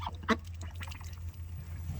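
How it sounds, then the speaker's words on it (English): Homestead ducks let out a few quacks in winter, one sharper call standing out early among softer scattered ones, close by over a steady low hum. "The ducks are still a bit uneasy and run from the chickens when they come over to eat their food"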